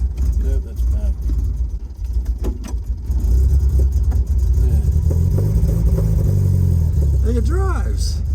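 A 1976 MGB with a carburetor that needs adjusting is driven, heard from close by. The engine rumbles and rises and falls in pitch as it revs, with voices talking over it.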